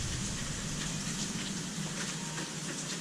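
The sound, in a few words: pea-sized hail falling in a hailstorm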